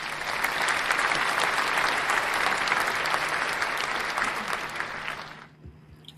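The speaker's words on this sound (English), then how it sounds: "Round of applause for her." An audience at an African Women in Games forum applauds a speaker: sustained, dense clapping from a sizable crowd for about five seconds, then tapering off quickly into quiet.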